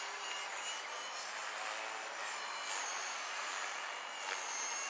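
A Blade 230S radio-controlled helicopter flies, giving a steady high whine and a broad rushing buzz that holds constant throughout, fairly loud and continuous with no talking.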